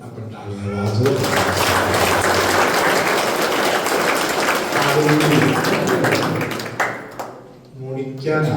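A congregation claps together during a church healing prayer service, a dense, sustained burst of applause that swells and then tapers off, with voices mixed in.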